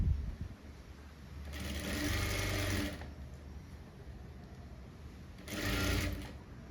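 Sewing machine stitching the back neck of a blouse, running in two distinct bursts of steady whirring, the first longer and the second shorter, with quiet pauses between them and no talking.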